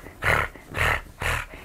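A voice imitates a tiger's roar during a children's read-aloud, giving three drawn-out, breathy roaring bursts in an even rhythm, close and fairly loud.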